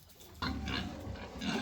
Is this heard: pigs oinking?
yes